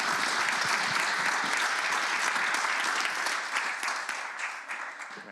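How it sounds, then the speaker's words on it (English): An audience at a Belfast panel event on higher education fees and funding gives its panelists a dense, sustained round of applause that fades slightly toward the end. "One last round of applause, please, for our panelists"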